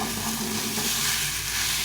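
Rice and lentils fry in a pan for khichuri, giving a continuous loud hiss and sizzle with soft stirring scrapes throughout, close up and without talk.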